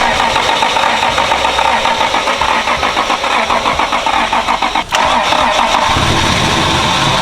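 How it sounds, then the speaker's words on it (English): Car engine cranking, catching and running on after its fuel pump is primed, a loud close rough idle with revving throughout. "Keep it going, Jordy. Is it going? Now it is. Ran. Stay running."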